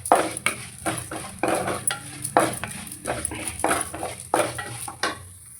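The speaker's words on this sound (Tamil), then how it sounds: "இப்போ உளுத்தம்பருப்பும் வடகமும் நல்லா எண்ணெயில் வதக்கிட்டு" Urad dal and vadagam fry in oil in a pan, stirred with a steady run of close, rhythmic scraping strokes over a soft sizzle.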